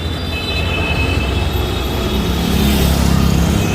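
A Tata bus engine drones steadily at Rajkot bus station, rumbling with low, heavy vibration and a faint high whine, growing slightly louder toward the end; no voices.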